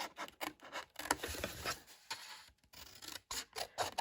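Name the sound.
scissors cutting up the score lines of a paper box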